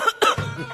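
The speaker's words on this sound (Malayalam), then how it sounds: "നീ ചുമക്കുന്ന കേൾപ്പിക്കാനാണോ എന്നെ ഈ സമയമില്ലാത്ത സമയം?" A single person coughs twice in quick succession, heard close as if over a phone call, with no words spoken.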